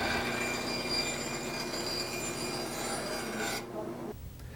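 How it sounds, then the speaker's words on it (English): A Craftsman band saw cuts through wood with a steady, loud whining rasp and faint squeal that runs unbroken for several seconds, then cuts off shortly before the end, leaving quieter motor noise. "Turn the saw on and guide the wood through."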